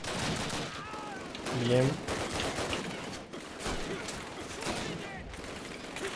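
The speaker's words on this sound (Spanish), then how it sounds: "Esa ametralladora me está comiendo mucho los huevos" Gunfire in the Call of Duty video game, a dense mix of shots and battle noise running throughout with a louder burst partway through, while someone speaks briefly over it.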